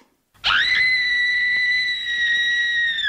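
A long, shrill cartoon scream cuts in after a brief silence and holds one steady high pitch for nearly three seconds, loud and alone.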